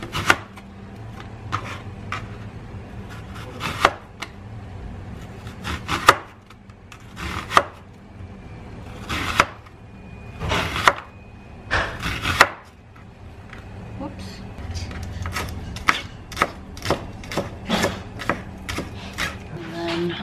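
A knife chopping onions on a cutting board for an omelet, sharp irregular knocks in quick bursts and pauses, close and distinct, with occasional quiet talk in between.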